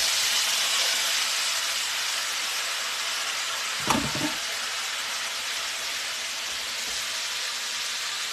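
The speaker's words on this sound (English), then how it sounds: "In potato frying, your oil must be screaming hot." Potatoes fry in smoking-hot bacon grease with a loud, steady, broadband sizzle that runs throughout, broken once by a brief clatter of utensil on pan near the middle.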